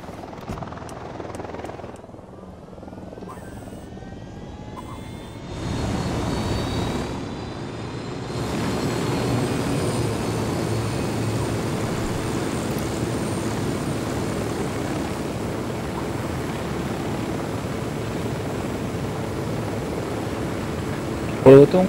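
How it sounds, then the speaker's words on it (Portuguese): A helicopter flies in the Ghost Recon Wildlands video game, its rotor and engine building from quiet to a loud, steady roar that holds for the rest of the stretch, with a brief sharp sound near the end. "Ah, você tá pra pegar o helicóptero da Kira?"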